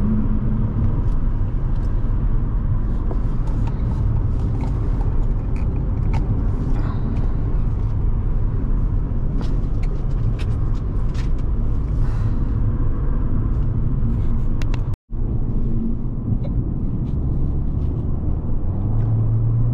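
A 2012 Audi A4 2.0T Quattro drives steadily, its engine and road rumble forming a continuous loud low drone, with a brief dropout near the end before the steady noise resumes.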